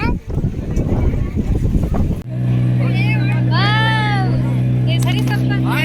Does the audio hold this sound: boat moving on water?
yes